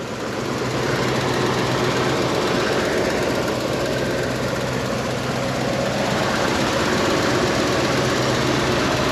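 A 1970 Ford Mustang with its original 302 V8 idles steadily up close, a loud, even rumble with a regular low pulse throughout and no talking.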